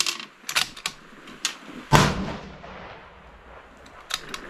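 Rifle shots from a 6 ARC load ladder test, several sharp cracks with one louder dominant report, short echoes trailing off between shots.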